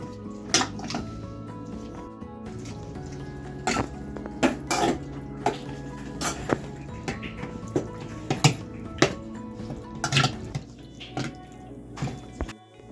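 Marinated chicken pieces with ginger-garlic paste being mixed in a bowl, producing repeated clinks of a utensil against the bowl and soft wet squishes in an irregular rhythm, close and clear with no talk.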